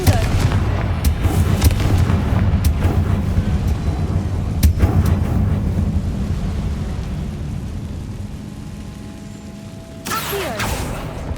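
Repeated Confringo blasting spells in Hogwarts Legacy roar through a mine, heavy continuous low rumbling with several sharp cracks, fading toward the end before a final sudden burst.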